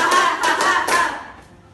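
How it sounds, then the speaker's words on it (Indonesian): A classroom group performs a rhythmic concentration clap, several loud, tight unison claps in quick succession before fading out, with no talking. "Tepuk 1, tepuk 2, tepuk 3, tepuk 4, tepuk 5."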